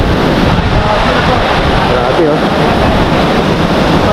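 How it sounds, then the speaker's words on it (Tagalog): Strong typhoon wind sweeping over Cavinti Islet, a lakeside camping spot in Laguna, roars loud and steady, buffeting the microphone for the whole stretch, with a short spoken exclamation over it. "Yan yung lakas ng hangin ngayon."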